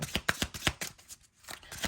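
Tarot cards being shuffled by hand during a reading, a run of quick papery riffling bursts with a short pause partway through, fairly close and alone without talk.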